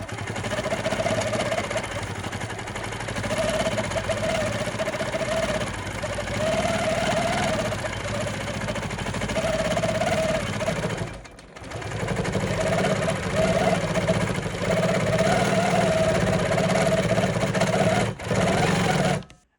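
A Janome Quilt Maker Pro 20 long-arm quilting machine stitches a pebble pattern with a continuous mechanical hum and needle chatter, briefly pausing midway before running on, close and loud.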